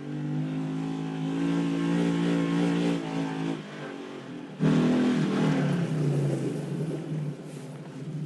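A quad ATV engine drives along with a loud, steady droning hum that shifts pitch slightly, dips briefly, then returns stronger and rougher as it keeps going.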